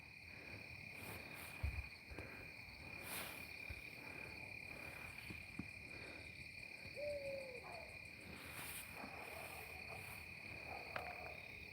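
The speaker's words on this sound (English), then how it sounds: "There went the owl." An owl hoots at night outdoors, faint and distant over a steady chorus of crickets and insects, with a few soft calls spread across the stretch.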